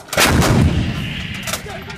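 A single heavy artillery round fired by US and Philippine Marines during a military exercise booms loudly and close, followed by a rolling, fading rumble.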